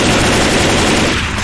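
Rapid gunfire from the video game Left 4 Dead 2 pours out in a loud, dense, unbroken burst that fills the whole moment, with no voices over it.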